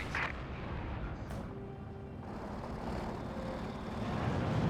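A Panzer IV tank fires its gun into the ground in Company of Heroes 2, a deep booming blast followed by a steady low rumble of battlefield noise with no talk.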